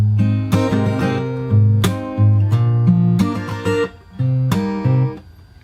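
Fingerstyle acoustic guitar plays two bars, mixing bass notes, percussive slaps and plucked chords in a steady groove, close and unaccompanied.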